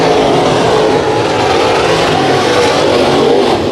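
Modified race cars roar around a dirt track during a heat race at KCRP, the engines loud and close in a continuous, dense wall of revving noise.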